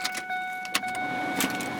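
A 2001 Ford F150 pickup truck's engine being started inside the cab, with a brief whirring crank and faint key jingles mixed with mechanical clicks, followed by the engine settling into a steady idle.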